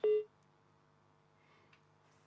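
A phone call disconnects: a single short electronic beep sounds at the start, then near silence with a faint low hum.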